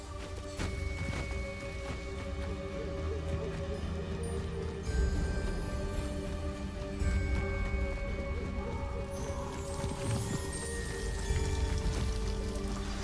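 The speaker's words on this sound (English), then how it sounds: "The waterfall." A waterfall in the video game Hogwarts Legacy pours and splashes steadily throughout, with soft tonal game sounds over the constant rushing water.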